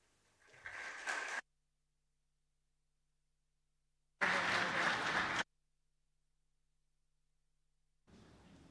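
Audience applause at a conference opening ceremony, heard as two separate bursts: a short swell that cuts off abruptly, a louder sustained round after a silent gap, and another beginning at the end.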